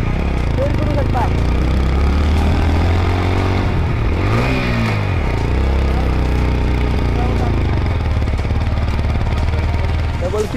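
Motorcycle engine droning steadily with rising and falling revs while climbing uphill toward Lohagad Fort near Pune, loud and close, with wind rumble throughout.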